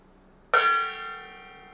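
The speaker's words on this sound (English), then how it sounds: "And then also let me hit this gong." A single gong strike rings out near and loud, with a sharp attack and a long shimmering sustain that slowly fades, heard on its own in a modelling workshop.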